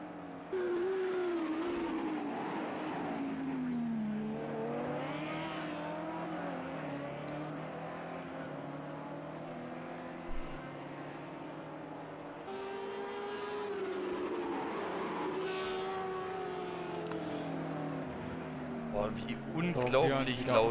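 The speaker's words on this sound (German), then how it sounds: "Unglaublich so, laut der Audi ist." An Audi GT3 race car in a racing video game at the Algarve circuit, its engine roaring steadily through rising and falling revs across shifts, with people talking over it throughout.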